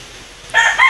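Chickens of an unusual breed sold as Chinese chickens, heard in a brief burst of loud crowing or clucking that begins about halfway through, with a short pause and a second call, then breaks off.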